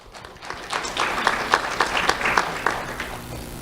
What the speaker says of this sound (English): Let's have a round of applause for Ethan Linscott.